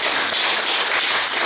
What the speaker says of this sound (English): these contestants deserve a round of applause